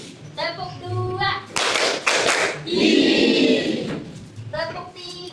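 Schoolchildren clap out a second rhythm pattern during a classroom warm-up game: quick clustered claps, then a sustained flurry of clapping, with an adult voice speaking before and after.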